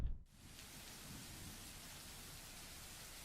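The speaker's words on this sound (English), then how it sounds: "Thunder threatens with a rumble seconds later, echoing long across the sky" Steady rain falls in dense sheets through a stormy night, a low rolling thunder rumble swelling beneath it after a sharp opening crack, with no voices.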